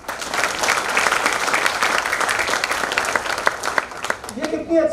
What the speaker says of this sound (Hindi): उन बच्चों के लिए भी ताली।